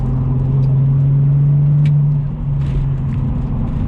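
BMW Z4 at full throttle in second gear, a steady, loud engine drone climbing slightly in pitch, heard from inside the cabin with a brief dip near the end as the revs settle.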